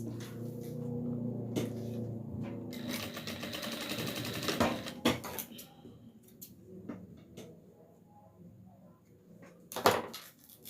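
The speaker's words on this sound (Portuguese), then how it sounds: "Passei a costura, ok? Vários retrocessos." Sewing machine stitching a small cloth hat for a rag doll, with bursts of rapid needle clatter stopping and starting for backstitches, followed by quieter handling clicks and a sharp knock near the end.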